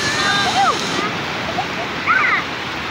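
Surf at Lhoknga beach in Aceh, a broad steady wash of breaking waves filling the background, with chirping bird-like calls and a voice faintly present over the roar.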